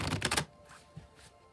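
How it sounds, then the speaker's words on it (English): A tarot card deck being shuffled, a quick burst of riffling card rustle over the first half second, then a couple of soft isolated card taps in an otherwise quiet room. "I'll shuffle till the deck feels ready, and then we'll cut and deal right off the top"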